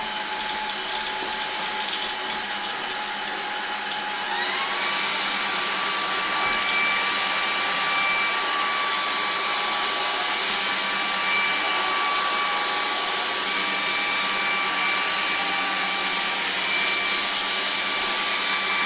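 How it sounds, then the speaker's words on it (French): A Jimmy HW10 vacuum cleaner runs with a loud, steady high-pitched whine that rises in pitch a few seconds in and then holds as it sucks up pieces of cereal and dry pasta. "l'aspirateur peut aspirer des objets de cette taille-là"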